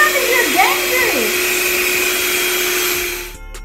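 Electric mixer beating butter in a bowl for gingerbread cookies, a loud steady motor whine running close and continuous before cutting off at the end.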